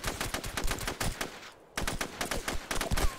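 Gunfire in the online video game SOCOM 2, close rapid bursts of shots in a quick irregular rhythm, a brief lull, then more loud crackling bursts.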